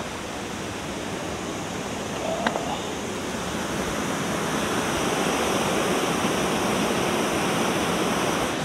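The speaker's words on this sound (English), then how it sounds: "this is Little Crystal Creek." Little Crystal Creek running high after heavy rain near a bridge, a loud, constant broadband rush of water filling the whole scene with no letup.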